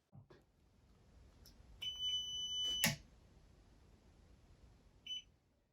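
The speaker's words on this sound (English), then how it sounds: "After that second beep," Two short electronic beeps from a ZWO AM5 telescope mount, close and clear, a second apart, followed by a fainter chirp in an otherwise quiet room.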